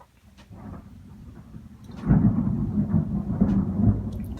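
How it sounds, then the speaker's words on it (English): Low rumbling thunder from a storm overhead, a deep rolling growl that swells midway and keeps churning, heard indoors, fairly muffled, with no talk over it. "there's a storm overhead"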